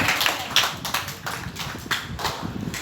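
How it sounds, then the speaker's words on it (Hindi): Group of people clapping hands at a school meditation session, a burst of scattered, uneven claps rising and falling over a few seconds in an indoor room. "जरा ताली बजाना।"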